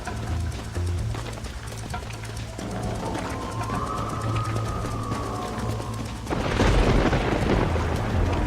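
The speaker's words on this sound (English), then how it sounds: "This storm's getting worse." Thunder rolls and rain falls during a storm in the video game Red Dead Redemption, with a steady wash of rain and a deep rumbling boom building near the end, loud and close.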